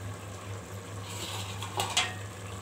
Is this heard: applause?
no